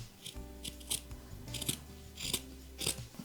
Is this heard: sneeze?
no